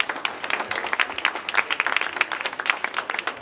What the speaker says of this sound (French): Applaudissez là-dessus.